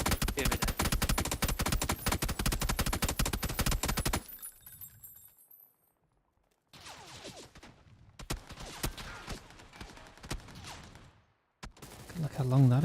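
Gunfire in GTA Online: a dense, loud burst of rapid automatic shots opens the scene, followed by quieter stretches, scattered single cracks and a sudden loud hit at the end.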